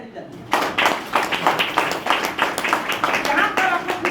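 A small group clapping at a shop welcome event in Irba, Ranchi: quick uneven claps starting abruptly and continuing for a few seconds, mixed with voices and crowd chatter.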